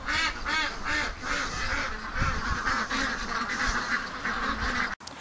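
A crowd of penned ducks waiting to be let out quacks continuously nearby, overlapping calls forming a busy, steady chorus with no talking.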